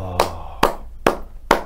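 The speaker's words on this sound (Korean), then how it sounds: "왜 박수를 치세요?" Four loud, close hand claps spaced evenly at a slow, deliberate pace, each sharp crack followed by near silence.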